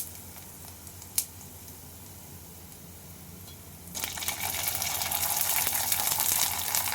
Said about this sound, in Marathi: कुरवड्या पण आपण तळून घेऊ।